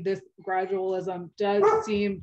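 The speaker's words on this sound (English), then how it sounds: "apologies for the dog in the background" A dog barks and whimpers in the background while a person speaks steadily over it, the animal's voice partly buried under the talk.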